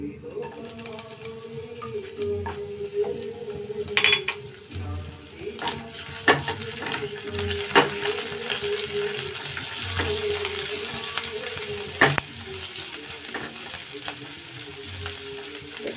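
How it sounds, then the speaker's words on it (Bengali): Chopped onion and panch phoron spices sizzle and fry in hot oil, a steady crackle broken by occasional stirring clinks and scrapes of a utensil in the pan. "তাতে দেব একটু পাঁচফোড়ন, আর দেব পেঁয়াজ কুচি"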